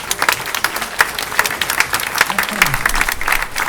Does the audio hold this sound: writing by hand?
no